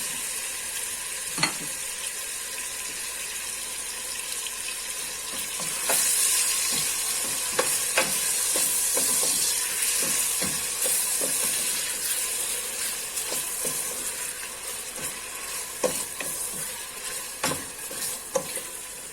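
Pieces of meat searing in hot melted butter in a pan for kidney bean stew, a steady close sizzle and hiss with scattered pops and spatters, louder from about six seconds on, no talking.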